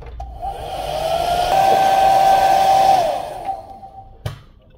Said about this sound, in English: are going to use a hairdryer to heat up the back cover for about 3 minutes